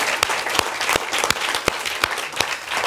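Lively audience applause for a live band at a Tulsa studio show, a steady wash of many hands with distinct sharp claps standing out, close and continuous.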